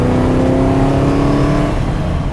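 A 400-horsepower NASCAR-engined AC Cobra Coupé revs loud and close, a rough throaty roar with rising harmonic tones that ease off toward the end.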